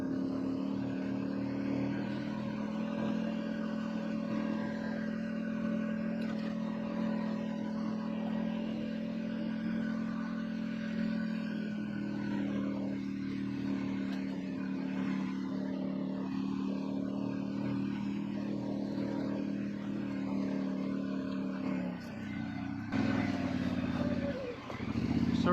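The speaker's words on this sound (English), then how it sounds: "Now we're just gonna drive down to Devon Stand." A vehicle drives steadily toward a deer hunting stand, its engine humming continuously at close range for most of the run, with a brief shift in tone near the end.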